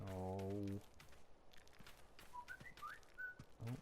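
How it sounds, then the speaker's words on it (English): A short rising electronic whistle tone from a phone notification plays, followed by a few soft chirpy notes and a brief exclamation, all fairly quiet. "that's just my phone whistling at me"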